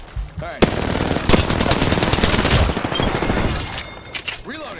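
Automatic weapon fire in the video game Apex Legends, a dense, loud rattling burst of rapid shots lasting about three seconds, followed by a few scattered pops and game effect sounds.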